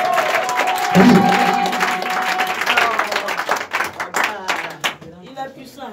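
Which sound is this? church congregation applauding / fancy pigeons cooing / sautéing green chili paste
church congregation applauding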